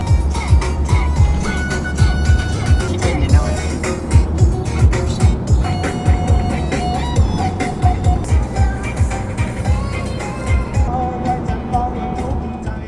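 A vehicle speeds along a road in Bangkok, its engine and road noise a loud, continuous rumble mixed with music and a repeating rhythmic thumping throughout.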